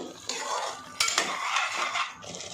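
A spoon scraping and stirring an eggplant mixture with added water inside a metal pressure cooker, with a few sharper clinks and a faint wet sizzle underneath.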